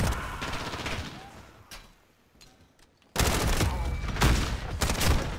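Rapid submachine gun fire in the shooter game Call of Duty: Modern Warfare, loud dense bursts at the start, a short lull, then sustained heavy firing for the last couple of seconds.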